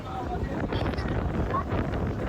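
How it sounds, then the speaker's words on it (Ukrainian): Strong evening wind on Korčula island, Croatia, buffets the microphone with a steady, loud roar and rumble throughout, with faint water and boat noise beneath. "вітер піднявся сильний"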